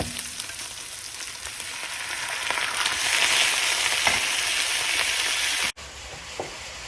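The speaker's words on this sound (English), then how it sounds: "my mom is busy frying the meat on the other side" Steady loud sizzling of minced beef frying in a hot pan for moussaka, a constant hiss with faint stirring scrapes.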